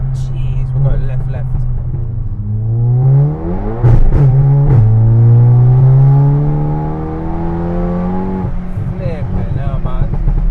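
A 632 bhp SEAT Leon Cupra accelerates hard, its engine heard from inside the cabin as it winds up through the revs with a gear change midway. Voices talk over the rising engine note.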